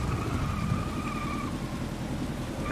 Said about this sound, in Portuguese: eu nunca vi um efeito de pista molhada tão bonito no simulador